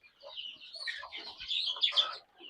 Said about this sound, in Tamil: கோழி நல்லாவே பார்த்துது கோழி குஞ்சுகளை